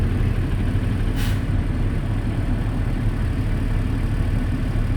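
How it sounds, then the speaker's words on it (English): A truck stopped in second gear at a driving-test stop idles with a steady, loud low engine rumble throughout, joined by one brief hiss partway through, with no talk. "Once I stop, my truck is in the third, I will put it on the second gear and just wait."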